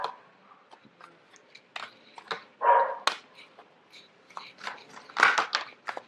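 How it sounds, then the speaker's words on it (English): A dog barks in the background of a quiet room, giving several short, uneven barks and yelps spread across the stretch, with the loudest bursts near the middle and end. "forgive the dog barking in the background"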